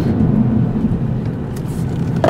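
Cupra Leon engine revving under acceleration with a rumbling, almost five-cylinder-like growl, a steady low drone heard from inside the car, rising briefly near the end.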